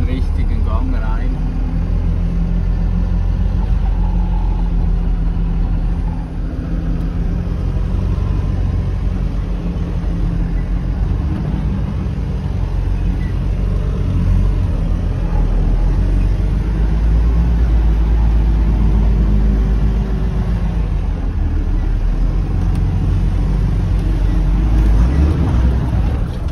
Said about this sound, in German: So, jetzt von Anfang an den richtigen Gang rein.